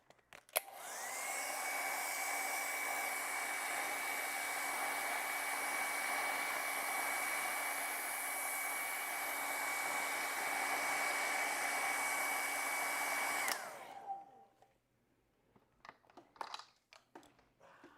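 A hair dryer blows steadily on acrylic paint for about thirteen seconds, a close, even whirring hiss that cuts off abruptly, followed by faint handling clatter.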